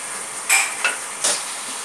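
Chicken sizzles in a kadai over high flame, steady frying hiss broken by three scraping stirs of a metal spatula against the pan, close and fairly loud with no talk.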